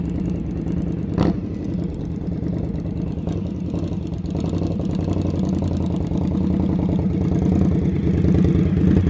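A motorcycle engine idles and runs low in first gear during slow-speed riding practice, a steady close rumble with a sharp clack near the start and a slight rise in revs toward the end.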